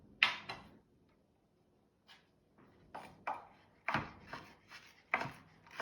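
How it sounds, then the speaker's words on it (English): A knife chopping dried apricots on a cutting board for rugelach, with sharp close taps coming in uneven clusters, a single strike at first, then a pause, then quicker repeated cuts. "we're going to chop them first, then measure them"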